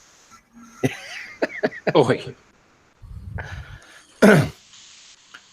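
Someone gives a harsh cough and throat clearing after vaping, amid brief speech, ending with one loud, sharp hacking cough.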